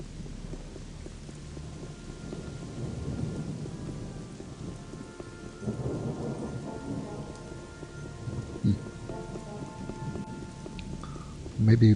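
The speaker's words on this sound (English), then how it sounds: "with all the rain." Steady heavy rain with rolling thunder pours through a dark night in the video game Gothic Dark Mysteries, a continuous wash with a low rumble swelling midway and a sharper crack near the end.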